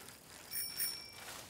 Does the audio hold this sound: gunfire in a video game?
no